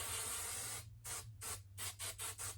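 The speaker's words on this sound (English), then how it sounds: "This is my performance hairspray of choice." Tresemme Extra Hold hairspray sprayed from an aerosol can, first in one long continuous hiss, then in a quick series of about six short puffs, close and fairly quiet over a low steady hum.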